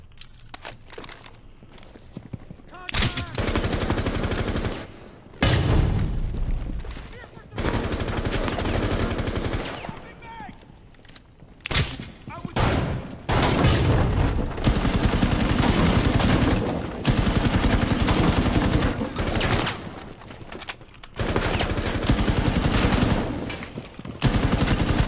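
Pistol fire in a video game, repeated bursts of rapid sharp shots separated by brief silent gaps, loud and close, with no talking over it.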